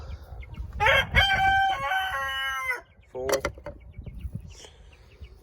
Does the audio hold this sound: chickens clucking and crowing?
yes